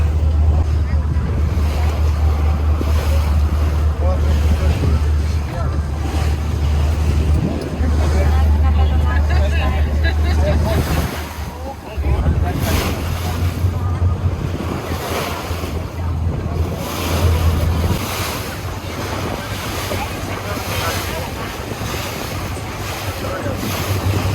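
A water taxi motors across the sea toward Mylos Beach on Lefkada, Greece, with a steady low engine drone, waves slapping and rushing against the hull, and wind buffeting the microphone throughout, while voices murmur faintly underneath.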